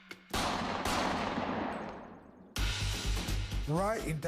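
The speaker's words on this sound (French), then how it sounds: "Son compagnon de longue date, Antonio D'Amico, et leur ami Lazzaro ont entendu les coups de feu depuis l'intérieur." Two loud, sharp gunshot-like blasts, each followed by a long decaying echo, with a voice speaking right after the second.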